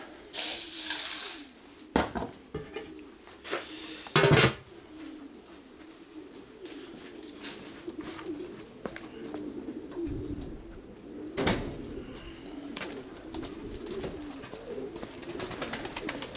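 Pigeons coo repeatedly nearby while being fed grain, soft low rolling calls over a background with scattered clicks and a few louder knocks and rustles.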